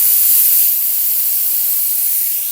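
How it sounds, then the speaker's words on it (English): Air hisses steadily and loudly out of a 28 mm bike tire as it deflates from 80 psi, a continuous bright rush with no pauses. "we're going to let all the air out"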